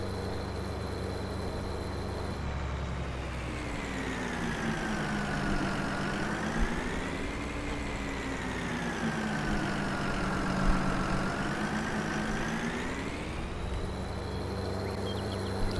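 Tractor engine in Farming Simulator 22, stuck in the mud and revving, with a steady drone whose pitch swells and dips across the whole stretch, heard alone without voices.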